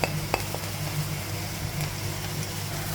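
Mushrooms for a thoran are stirred in oil in a pan, producing a soft, continuous sizzle with a couple of light utensil knocks and scrapes near the start.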